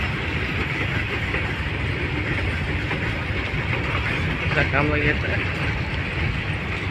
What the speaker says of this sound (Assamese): ৰেলগাড়ী বাপৰে বহুত দীঘল গাড়ী হয় এখন, মাল অনা গাড়ী হয় এখন।